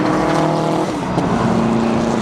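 Rally car number 7 passes on a stage of the McRae Rally Challenge, its engine a loud, continuous roar with a slight pitch shift partway through, close and alone.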